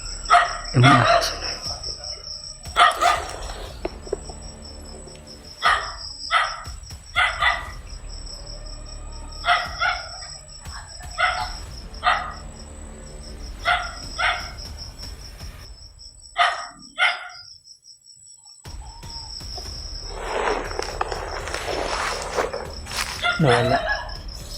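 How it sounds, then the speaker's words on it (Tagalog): Dogs bark intermittently outdoors, sharp repeated bursts spread through the scene over a constant high chirring of crickets, with a quieter stretch near the middle. "Yung mga aso."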